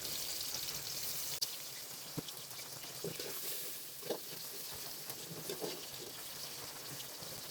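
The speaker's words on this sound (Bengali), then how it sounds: "তেলটা গরম হয়ে গেছে, এখন আমি পেঁয়াজ কুচি দিয়ে দিলাম" Chopped onions fry in hot oil in a wok, giving a steady, close sizzle with a few soft stirring clicks and scrapes over it, while a fish bhuna is being cooked.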